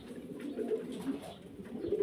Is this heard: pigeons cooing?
yes